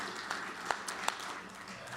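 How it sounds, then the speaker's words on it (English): Audience applause at a Rotary gathering, a steady wash of clapping at moderate level with a few sharper individual claps standing out, no talk over it. "Give us a round of applause."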